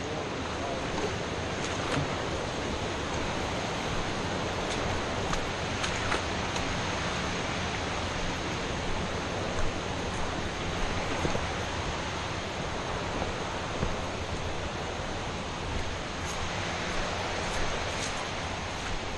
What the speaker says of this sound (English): Sorry about the sound of the waterfall, but I can't do nothing about it.